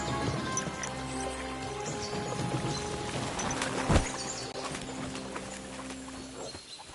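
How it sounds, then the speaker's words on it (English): Horses galloping across terrain in Kingdom Come: Deliverance II, rhythmic hoofbeats clip-clopping steadily under a low game soundscape, with one sharp louder thud midway. "we'll give the horses a gallop again."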